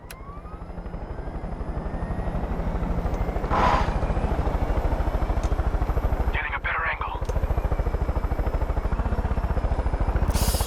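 A helicopter in the video game Far Cry 5 drones steadily throughout with a loud, continuous rotor chop, its thumping rhythm filling the whole clip with no spoken words over it.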